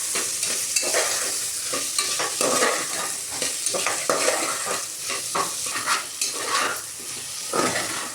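Green peas being sautéed in a pan for Indrayani rice masala bhaat, a bright continuous sizzle with frequent scraping spatula strokes and light metallic clinks, close and loud.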